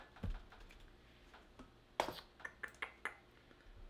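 Scissors cut gift-basket ribbon in a quiet room: a few scattered soft clicks, then a quick run of five or six sharp, close snips.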